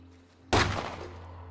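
A single loud gunshot in a video game, sharp and close, cracking out after a quiet moment and then fading into a lingering rumble.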